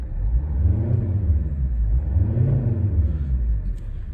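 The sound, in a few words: 2010 Volvo XC60 diesel five-cylinder engine revving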